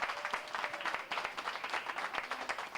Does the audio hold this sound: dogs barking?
no